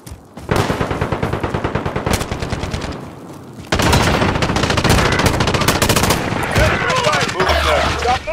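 Rapid automatic gunfire in Call of Duty Modern Warfare Warzone, loud sustained bursts that break off briefly and then resume even denser, with a voice speaking over the action.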